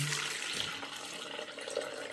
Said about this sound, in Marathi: ही छोटी बादली त्यात तसं मी असं गाळून घेते हे पाणी